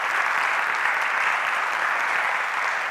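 Audience applause at a university leadership forum, a steady, dense wash of clapping from a large crowd that holds at an even level for the whole stretch with no talk.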